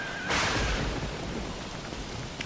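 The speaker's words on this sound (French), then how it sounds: "c'est l'hiver, il pleut, il y a de l'orage" Rain and a thunderstorm in the video game Don't Starve during winter: a sudden thunder crack breaks out, then steady rain hiss continues softly with no talk.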